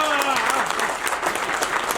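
Audience clapping at a year-end gathering of a tourism association in a hotel, a short burst of dense applause heard close, with a voice speaking at the start.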